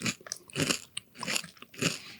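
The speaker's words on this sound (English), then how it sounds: "some people probably like the sound of us chewing" Close, crisp crunching of chips being bitten and chewed, in several bursts with brief pauses, no talking.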